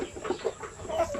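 Zamboanga native chickens, a pure-breed flock, cluck in a run of short, close, moderately loud calls with no voices.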